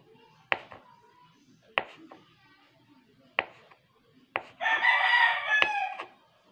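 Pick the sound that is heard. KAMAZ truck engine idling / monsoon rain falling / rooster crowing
rooster crowing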